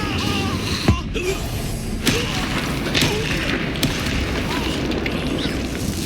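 Incendio fire spell cast in Hogwarts Legacy combat, a burst of booming, thudding impacts and crackling effects over a busy, continuous game soundscape.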